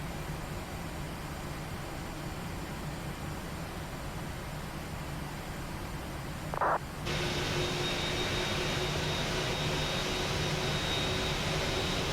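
A jet airliner departs a snowy prairie runway in a Prepar3D flight simulator, its engines a steady, moderately loud broadband roar with a faint whine, heard alone and holding constant throughout.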